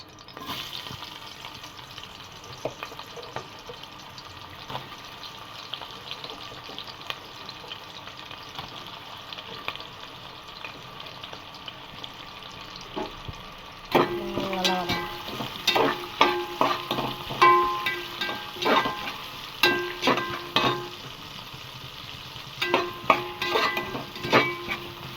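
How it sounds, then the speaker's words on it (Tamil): Onions sautéing in a pan with cloves, fennel and green chilies for chicken biryani: a low, constant sizzle that becomes a run of rhythmic spoon scrapes and clatters against the pan halfway through. "வெங்காயம் நல்லா வதங்கிட்டோம்"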